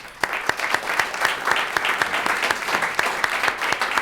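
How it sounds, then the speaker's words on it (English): An audience applauds a clean tech finance panel and its moderator at a conference, steady clapping throughout with a few sharper claps standing out, fairly loud and with no talk over it. "And give a round of applause to Andrew Winston, an amazing moderator."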